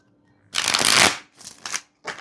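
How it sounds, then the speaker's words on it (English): Tarot cards being shuffled, one long loud riffle followed by two shorter bursts and a final brief one, close and clear with no talk. "Another big shuffle."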